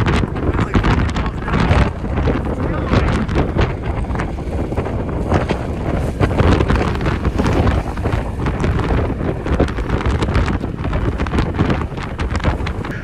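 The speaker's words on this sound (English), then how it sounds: "The wind is gusting like 30, 40, 50, 60 miles an hour." Strong wind gusts buffet the microphone on Vestraholm Mountain at Stocksness, a loud, continuous roar and rumble that swells and dips without letup.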